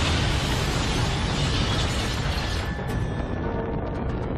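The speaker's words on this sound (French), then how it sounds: "Car ce serait une explosion d'une force incroyable." A massive meteorite impact explosion roars as a dense, sustained rumbling blast, loud and continuous, then thins into a crackling debris hiss with scattered sharp pops as it settles.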